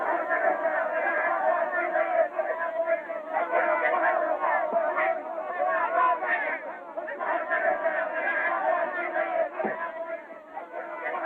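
An angry crowd of frontier settlers shouts and clamours together in a continuous, dense roar of overlapping raised voices, loud and sustained without letting up.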